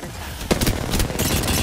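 Gunfire in a fast-paced battle royale shooter game crackles in a quick burst of several sharp shots, loud and close, with no voices.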